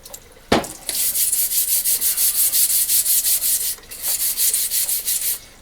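A clogged household water filter in an off-grid water system scrubbed clean with quick, rhythmic back-and-forth rubbing strokes, close and fairly loud, after a single knock, with one short pause midway.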